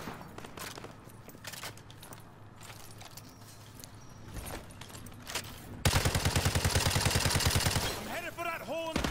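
Gunfire in the Modern Warfare 2 campaign: scattered shots under a talking voice, then a loud, rapid burst of repeated firing near the end, close and sharp, with shouting and cluttered combat noise around it.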